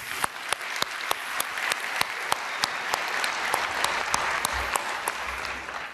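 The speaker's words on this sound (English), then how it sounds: "I think we should have an applause for that." A lecture audience at the Nobel Week Dialogue claps in a warm, even round of applause, with a few sharp individual claps standing out on a regular beat.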